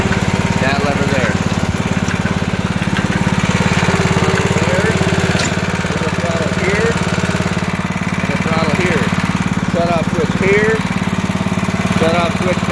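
A Barreto 1324-D trencher's engine runs steadily with its digging chain turning, a loud, constant mechanical drone close by while someone talks over it.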